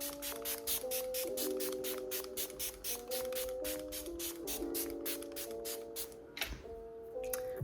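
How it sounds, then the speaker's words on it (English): Rapid repeated spritzes of a fine makeup setting spray mist pulse in quick succession, fairly close, over a steady melodic tone in the background. "I usually just drench myself in setting spray"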